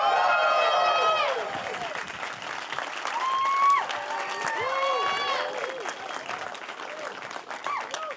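Large crowd at a New York red carpet launch event for Daredevil: Born Again clapping and cheering loudly, whoops and whistles over sustained applause that gradually eases.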